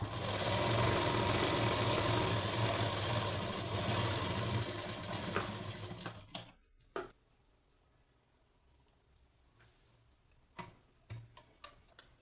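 A sewing machine stitching a lined blouse runs in a fast, steady mechanical whir for about six seconds, then stops, followed by a few sparse clicks and short ticks of the mechanism amid near silence.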